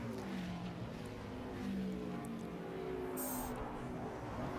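A NASCAR Nationwide race car passes during qualifying at Watkins Glen, its engine a faint, steady distant drone that swells slightly midway, with no voices over it.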